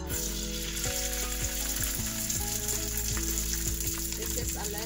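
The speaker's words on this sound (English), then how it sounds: "This time we're going to toss our rice now." Leftover rice fries in a pan with a constant sizzle, close and clear, while a metal utensil scrapes and tosses it in a rough repeated rhythm.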